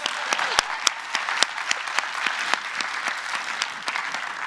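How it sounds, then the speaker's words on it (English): Audience at an awards ceremony gala applauding two women, a steady crowd clapping with sharp individual claps standing out throughout. "Let's give them a round of applause."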